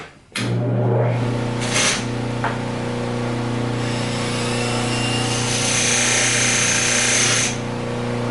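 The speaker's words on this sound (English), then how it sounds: "I'm going to step off camera for a second and touch this on a wax wheel" Pipe stem tenon pressed against a spinning wax polishing wheel, a continuous motor hum with steady buffing friction throughout, loud and close, with short scraping bursts near the start.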